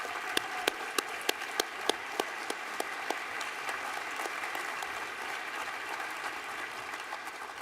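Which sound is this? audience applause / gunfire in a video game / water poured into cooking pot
audience applause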